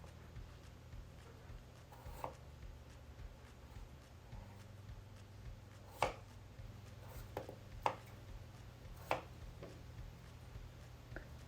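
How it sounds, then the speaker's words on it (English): Peeled golden potatoes are cut into one-inch pieces, and several sharp, separate knife strikes land on a cutting board at an irregular pace over a quiet, humming room. "I'm going to cut up 2 pounds of peeled golden potatoes into about 1-inch pieces"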